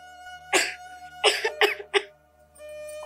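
Coughing from a sick young woman, several harsh bursts in quick succession: one, then a cluster of three, close and fairly loud against a quiet indoor background with a steady faint hum.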